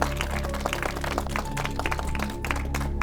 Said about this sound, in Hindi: अरे तू यहाँ तालियां बजा रहा है?